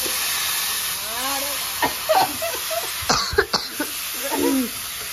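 Several short, harsh coughs burst out in a home kitchen while chili and garlic fry for an ilish fish-head and taro-greens dish. Voices talk around them over a constant hiss.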